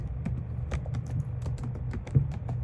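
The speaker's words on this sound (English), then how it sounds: "watch what I'm typing" Typing on a computer keyboard, heard as a close, irregular run of light key clicks over a low steady room hum, with no talking.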